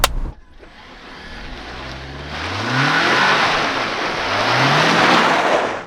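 A 2021 Jeep Wrangler 4xE plug-in hybrid launches hard with traction control off; the engine note climbs in repeated rising sweeps, loud and close, and the revving builds and holds for several seconds.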